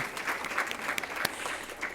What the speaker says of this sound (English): please join me in giving a round of applause to our presenters